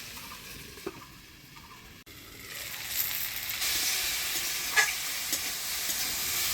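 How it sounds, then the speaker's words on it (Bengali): Taro stolons stirred and fried in a pan with turmeric and salt, a steady sizzle and hiss that swells louder after the first couple of seconds, with occasional scraping stir clicks. "এবার দিয়ে দিচ্ছি হলুদ লবণ। নাড়াচাড়া করে নিলাম।"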